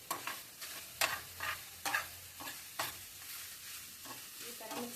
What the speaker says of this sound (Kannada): ಇದು ಕೊತ್ತಂಬರಿ ಕಾಳು. ಸೊ ಇದನ್ನು ಹಾಕಿ ಚಲೋತ್ನಂಗೆ ನಾವು ಬಾಡಿಸ್ಕೊಬೇಕ್ರಿ